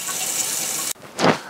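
Tap water runs into original Epson XP15000 ink cartridges for DTF printing, a steady close hiss that stops abruptly and is followed by a short splashy gush.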